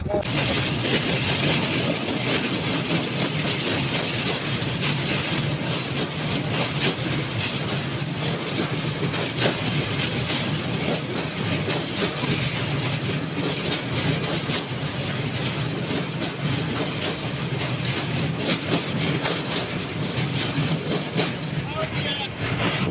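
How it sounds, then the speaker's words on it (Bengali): A train rumbles across the Teesta rail bridge at midday, a steady, dense roar of wheels and carriages heard continuously at moderate distance, with wind and general outdoor noise and no clear speech. "ব্রিজের উপর দিয়ে এই মুহূর্তে ট্রেন চলে গেল"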